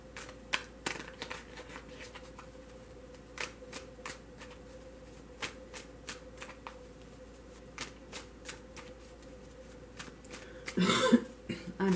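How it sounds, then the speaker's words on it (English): A deck of tarot cards is shuffled close by in a quiet room, giving a run of soft riffling snaps and flicks spaced through the stretch, with a denser burst of shuffling near the end. "I'm shuffling my other deck."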